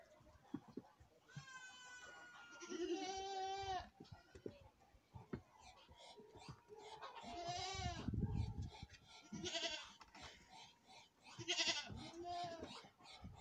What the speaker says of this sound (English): feed the baby goats